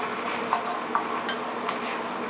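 Half a cup of butter melts in a pot with a steady soft sizzle, while a few light whisk taps and scrapes click against the metal.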